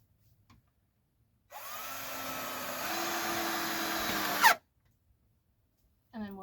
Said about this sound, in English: Now I can come back here and staple the plastic in the back